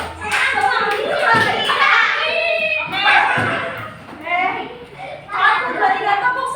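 A fourth-grade class in Indonesia claps in rhythm during a classroom chant, bursts of hand claps landing in short groups between loud, sung-spoken phrases from the children and a teacher's voice.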